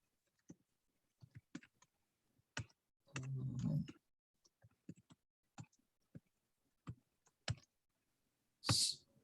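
Someone types on a computer keyboard in short, scattered bursts of crisp key clicks with quiet gaps between them, plus a brief denser flurry and one sharper tap near the end, heard close and alone.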